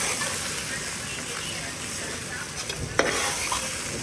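Sautéed ivy gourd being stirred with onion and tomato in a South Indian kitchen, a steady dense sizzle with a sharp utensil clack near the end, a voice speaking faintly underneath.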